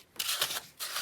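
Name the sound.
sanding a card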